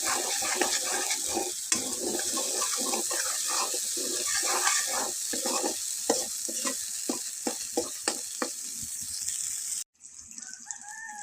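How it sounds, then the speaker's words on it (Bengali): Spices frying in a pan for a chorchori of brinjal, dried shrimp and tender leaf tips: a steady close sizzle with rhythmic scraping stirs throughout, then a brief cut near the end before the sizzle resumes. "মশলা আমার দেওয়া হয়ে গেছে, একটু ভাজে নেব।"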